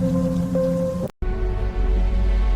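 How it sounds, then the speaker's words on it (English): Heavy, cold rain falls in a steady, loud hiss beneath faint sustained tones. The sound cuts out abruptly for a moment, then resumes just as dense. "Rain began to fall, cold, heavy, merciless."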